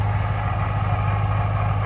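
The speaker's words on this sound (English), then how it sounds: "You can hear that supercharger whine a little bit." A supercharged 4.6-liter V8 in a 2008 Ford Mustang Saleen H281 Dan Gurney Edition idles smoothly and steadily, with a low, even rumble heard close up and alone.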